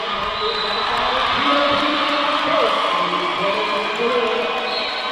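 Steady crowd roar fills a packed roller derby venue during a 2018 World Cup bout between Iran and Korea, with scattered whoops and cheers rising and falling throughout, loud and continuous with indistinct voices mixed in.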